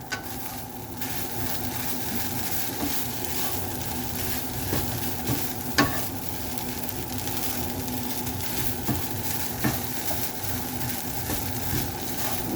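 Chorizo and eggs being stirred in a hot pan: a continuous sizzle and frying hiss with occasional soft scrapes of the utensil, fairly even and moderately close.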